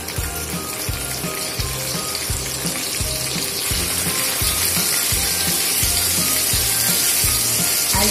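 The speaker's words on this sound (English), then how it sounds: "Next, in the same leftover oil, I'll put the cottage cheese or the paneer." Cottage cheese (paneer) pieces frying in leftover oil, a bright continuous sizzle over a repeating low mechanical ticking thump, steady and close throughout.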